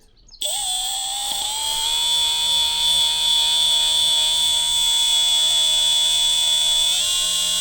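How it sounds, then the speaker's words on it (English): A die grinder fitted with a soft SOS-style abrasive pad polishes a hydraulic cylinder from a Cat 977 loader, starting after a brief silence with a loud, steady high-pitched whine that holds constant to the end. "So I just got one of these soft kind of SOS pads on the die grinder."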